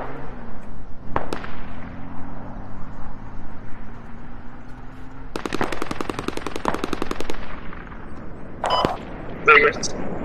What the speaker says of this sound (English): Who is that shooting at that building like that?